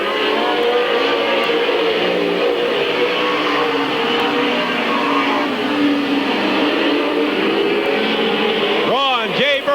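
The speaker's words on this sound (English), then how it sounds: "Bobby Gaynor on the inside, able to get on the inside of Jumping Joel McKnight, but he hasn't quite got by him as they go down the backstretch." Race cars at Midvale Speedway in 1996 roar continuously around the oval track, engines droning loud and steady, with a nearby car sweeping past near the end in a rising-falling whoosh.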